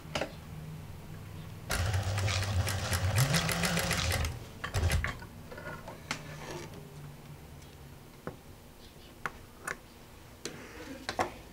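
A sewing machine stitches patchwork pieces together in a burst of rapid mechanical whirring lasting a couple of seconds, then stops, leaving scattered light clicks and handling taps in a quiet room.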